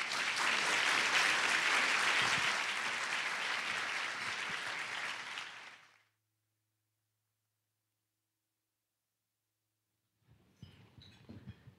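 Loud audience applause at a Latino State of the Union policy roundtable, a thick wash of clapping for about six seconds that stops abruptly, followed by silence and then faint sounds near the end.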